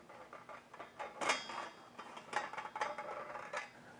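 SmokeWare chimney cap on a Kamado Joe Classic grill grinding as it is forced to move, a close, rough metallic scraping in uneven bursts, fairly quiet overall.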